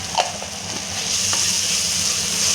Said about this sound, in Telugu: టమాటోలు అనేది చూడండి ఇలా బాగా మగ్గాలి ఆయిల్లో